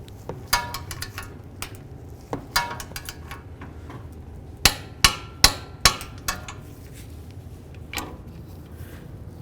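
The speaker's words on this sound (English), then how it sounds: "Let's torque this to 59 foot-pounds." Sharp metallic clicks from a torque wrench tightening a tie rod nut to 59 foot-pounds on a 2005–2014 Ford Mustang, heard as scattered single clicks and a quick run of four loud clicks near the end over a low shop rumble.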